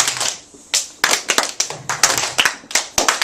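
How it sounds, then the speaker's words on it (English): Loud hand clapping during a drum-rhythm workshop exercise, sharp close claps in uneven rhythmic groups with brief gaps between bursts, nothing else heard. "But clap loud."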